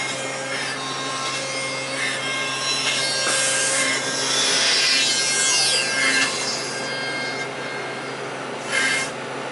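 A computer-controlled machine grinds and rubs steadily against wood while sanding, with a constant motor hum, the abrasive scraping swelling and easing over time.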